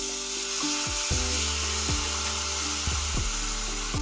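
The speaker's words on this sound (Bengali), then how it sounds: "এখন আমরা কড়াইয়ের উপরে যোগ করে দেবো সামান্য কিছুটা পরিমাণ জল।" A splash of water hits a hot kadai while cooking begun ilish, giving a steady close sizzle and bubbling hiss with repeated metallic scrapes and thuds of stirring throughout.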